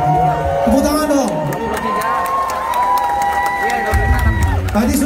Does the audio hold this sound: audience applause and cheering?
yes